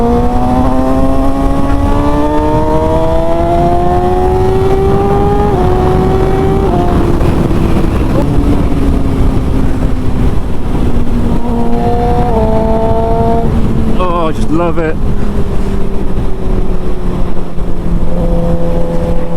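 A loud Suzuki GSX-R K7 Isle of Man TT Special sport motorcycle engine runs close by, its pitch climbing and shifting through revs, with a brief spoken remark partway through.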